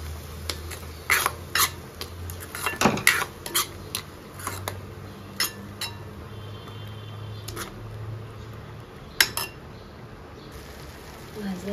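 Raw ground masala paste is sautéed in oil in a pan for a pigeon pea pod curry, with sharp spoon clinks and scrapes against the metal at irregular intervals over a low, steady background hum.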